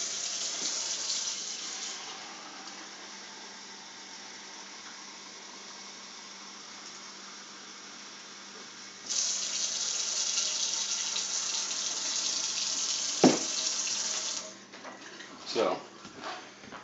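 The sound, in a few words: cold tap water running into a bowl of flour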